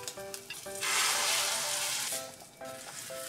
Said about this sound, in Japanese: よし、卵焼き作るぞー。